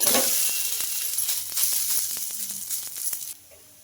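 A roti made with poha sizzles steadily on a hot pan after being flipped, a continuous close hiss with faint crackles that drops off abruptly near the end.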